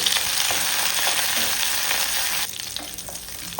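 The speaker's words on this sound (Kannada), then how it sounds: "ಈಗ ಅದೇ ಬಾಣಲೆಗೆ ಒಂದು ಒಂದು ಸ್ಪೂನಷ್ಟು ಎಣ್ಣೆ ಈ ಎಣ್ಣೆಗೆ ಒಂದು ಎರಡು ಎಸಳಷ್ಟು ಬೆಳ್ಳುಳ್ಳಿಯನ್ನು ಸ್ವಲ್ಪ ಗುದ್ದಿ ಹಾಕಿದ್ದೇನೆ" Crushed garlic cloves and curry leaves fry in about a spoonful of hot oil in a pan, making a loud, close, steady sizzle that drops suddenly to a quieter crackle partway through.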